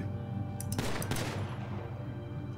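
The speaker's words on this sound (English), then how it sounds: "I want you to shoot directly into the bullet hole." A single burst of gunfire in a GTA roleplay game, a shot into a body, with a short rattling tail that fades over steady background noise.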